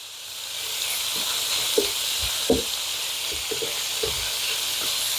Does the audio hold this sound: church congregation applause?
no